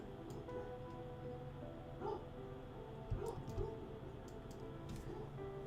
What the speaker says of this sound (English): It sounds like our dog is barking in the other room.